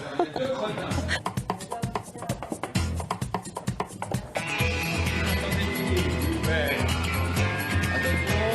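A pony at a riding lesson whinnies clearly over background noise and music, and someone speaks in French at times.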